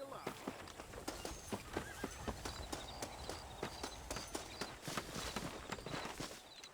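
Horse hooves clip-clop steadily in the Red Dead Redemption video game, mixed with loud whinnies and neighs over a busy, close background.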